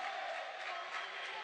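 A basketball crowd applauding as a Sporting Sala Marcianise versus Isernia game ends, a steady wash of clapping and crowd noise that stays fairly even and sits at a moderate distance.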